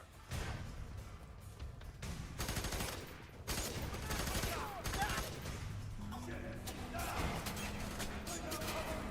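Rapid video-game gunfire aimed at the player rattles in dense, loud, overlapping bursts almost without pause, with heavier thuds mixed in toward the end.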